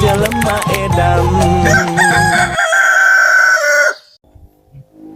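A rooster crows loudly over a busy musical backdrop, its long call holding steady before cutting off into near silence with faint sounds.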